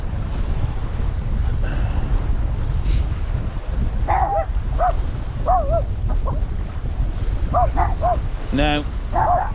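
Dogs barking near a river estuary while sea fishing, several sharp barks in short bursts over steady wind and water noise.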